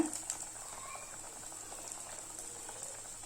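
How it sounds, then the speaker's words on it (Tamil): Masala lentil vada, paruppu vadai, frying in oil over a medium flame, giving a faint steady sizzle and bubbling throughout, close and continuous. "இப்போ இதை எண்ணெயில் போட்டுடலாம். மீடியம் ஃப்ளேம் மட்டும் வச்சுக்கோங்க."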